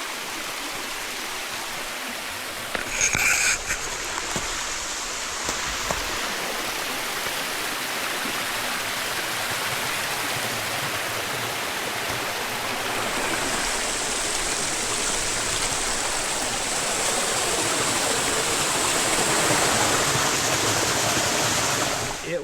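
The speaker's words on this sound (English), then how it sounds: "We're at the creek, glorious creek." A mountain creek along the Alum Cave Trail rushes over rocks in a continuous broad watery roar, close and steady, with a brief knock near the start.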